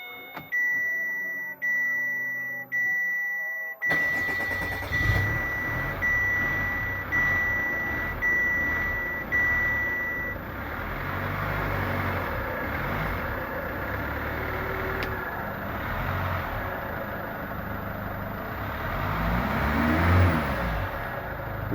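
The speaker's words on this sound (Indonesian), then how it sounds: "Kita start sambil injak gas ya." Chevrolet Captiva diesel engine, running on biodiesel, cranked and started: rhythmic chime beeps first, then the engine catches and idles loudly nearby, with revs rising and falling.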